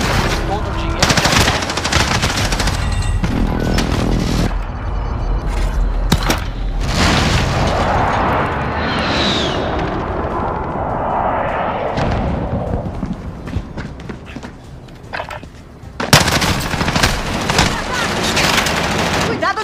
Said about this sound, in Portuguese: Ataque aéreo de precisão!